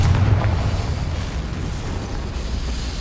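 A Confringo spell explodes in Hogwarts Legacy with a heavy low boom at the start, then a long rumbling decay beneath a steady backdrop.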